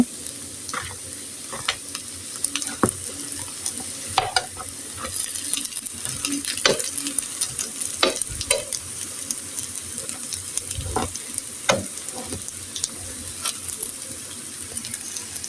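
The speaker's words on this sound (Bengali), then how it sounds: "এভাবে আমি ভালো করে সুন্দর করে ভেজে নিচ্ছি" Egg-coated tandoori bread frying in a pan, a steady close sizzle broken by frequent sharp clicks and scrapes of a utensil stirring and turning it, with no talk.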